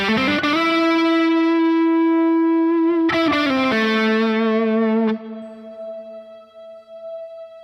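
Guitar run through the Neural DSP Archetype Rabea plugin with a synth freeze effect, a held distorted chord followed by a struck change, then a constant violin-like sustained tone lingering on its own.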